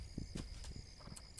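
Horses clip-clopping in the video game This Land is My Land, with quick, steady hoofbeats repeating at a moderate distance over a soft ambient bed.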